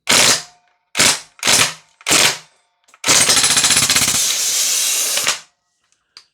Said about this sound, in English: I just wanted to show you how this thing shoots